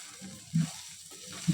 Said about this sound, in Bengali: এখন এটা নেড়ে চেড়ে ভাজা ভাজা করে দেবো